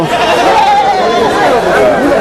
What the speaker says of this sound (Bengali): ছোট ছাগল কতগুলো একেবারে ছোট ছোট কতগুলো আনছে